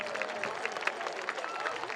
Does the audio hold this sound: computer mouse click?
no